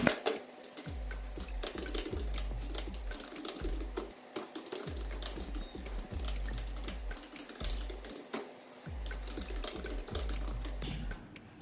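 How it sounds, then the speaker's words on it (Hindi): Clattering keystrokes on a Logitech MK235 wireless keyboard come close and clear, typed in quick bursts separated by brief pauses, with no voices. "अब इस पर कुछ टाइप करके देखते हैं।"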